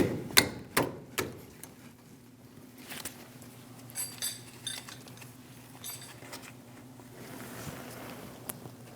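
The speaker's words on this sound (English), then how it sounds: "Using a 15mm wrench, we're going to remove the bolt for our brake line." Metal clinks and taps from a 15mm wrench loosening the brake line bolt on a rear brake hose of a 2011-2018 Ram 1500, a few sharp close knocks early, then softer scattered taps over a low steady hum.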